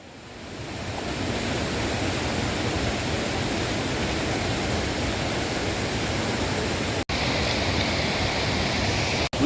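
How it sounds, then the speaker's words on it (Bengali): Kuikhola waterfall in Sikkim on the Silk Route roars as a steady, dense broadband rush of falling water, loud and continuous with no voices. "কুইখোলা ওয়াটারফলস দেখা হলো"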